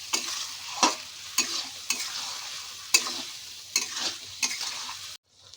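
A pan of ridge gourd and potato posto is stirred, with repeated scraping strokes about every second over a soft sizzle, then an abrupt stop into near silence.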